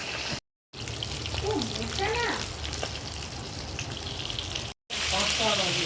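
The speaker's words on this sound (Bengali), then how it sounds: "এখানে মাছ মাছটা ভাজা করব মাছ ভাজাটা হচ্ছে" Fish frying in hot oil in a home kitchen gives a steady, dense sizzle close by, broken by two short cuts, while a voice speaks faintly over it.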